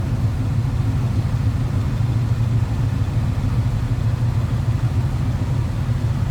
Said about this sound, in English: Just a nice rumble coming to that small block Chev.